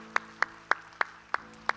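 A church congregation claps in unison during a worship service: six sharp, evenly spaced claps in a steady rhythm, moderately close, with no talking over them.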